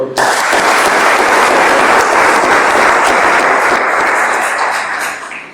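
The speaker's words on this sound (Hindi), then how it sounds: "उनके लिए ताली बजाओ।" An audience claps at a world brotherhood honour ceremony at the Brahma Kumaris Prabhu Anubhuti Bhawan in Shahabad Markanda: a loud, dense burst of applause that starts abruptly, holds steady and fades slightly at the end.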